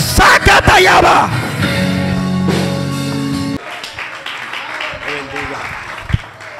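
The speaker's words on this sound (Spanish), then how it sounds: "yo veo ese aplauso como triste" A church congregation at an evangelistic service breaks into yells, whoops and clapping, loud and close at first, then settling into softer, scattered applause with a shout near the end.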